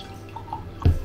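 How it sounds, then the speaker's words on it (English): Juice from a halved lemon drips in a kitchen, one brief soft splash near the end over a faint background hum. "we're gonna cut our lemon in half,"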